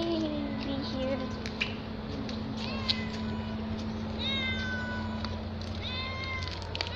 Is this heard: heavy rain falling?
no